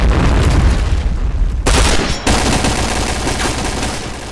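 A grenade blast and heavy gunfire in the shooter game Kaybo during a clan war: a dense, loud roar of shots that breaks off sharply for a moment, then continues as sustained rapid fire, close and steady.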